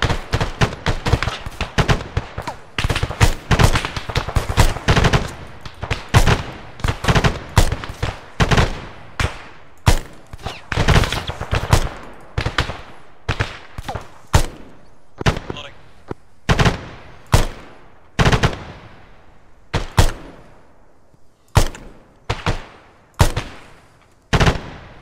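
Gunfire in the military shooter ArmA: rapid bursts of automatic fire crackle close and loud, thinning out into separate single shots and short volleys with gaps between them, while a voice talks briefly over it.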